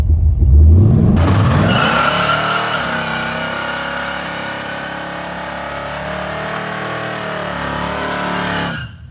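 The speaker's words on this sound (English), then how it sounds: "We got to break in the burnout pad just right here" A car does a burnout on a fresh burnout pad, its engine roaring steadily at high revs with the tires screeching continuously. The sound is loud and close, holds for several seconds, then cuts off abruptly.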